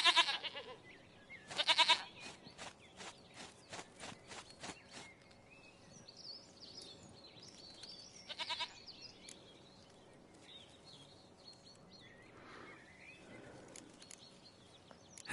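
A goat bleats in The Witcher 3: Wild Hunt, with repeated sharp calls in bursts near the start and again midway over a quiet ambient backdrop with faint birdsong.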